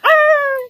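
A voice imitates a small dog with one short, high, whining yip that holds steady for under a second, close and fairly loud, with no other sound around it.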